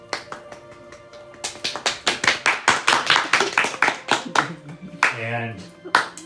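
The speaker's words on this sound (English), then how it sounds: "round of applause for the soon-to-be couples" Several tabletop role-playing players clap along in a quick, uneven run of sharp hand claps close to the microphone. The claps slow and thin out before a voice speaks briefly near the end.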